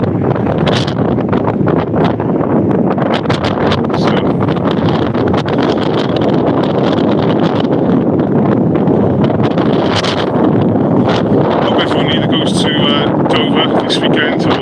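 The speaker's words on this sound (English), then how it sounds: "It's too windy." Heavy wind buffets the microphone with constant loud rumbling and crackling gusts, with a voice faintly audible beneath the roar.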